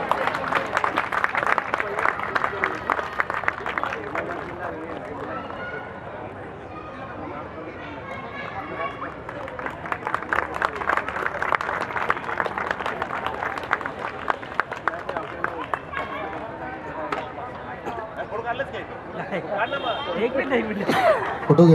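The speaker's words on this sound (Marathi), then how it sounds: "जरा जोरदार टाळ्या वाजल्या पाहिजे" Applause at an award felicitation ceremony held by a Buddhist association runs in bursts of crowd clapping mixed with chatter and voices, swelling and fading over about twenty seconds, with people talking throughout.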